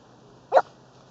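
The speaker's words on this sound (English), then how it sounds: "Here's the barking dog." A single short dog bark, sharp and mid-distance, standing alone against a quiet background hiss.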